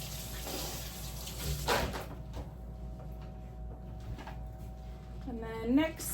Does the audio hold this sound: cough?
no